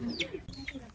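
A chicken gives a few quick, close clucks in a brief burst, mixed with people talking nearby.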